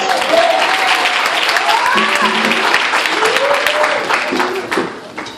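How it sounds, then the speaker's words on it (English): A church congregation claps and cheers loudly and continuously, a thick wash of hands with raised voices and whoops mixed in throughout. "Come on, give God a hand clap."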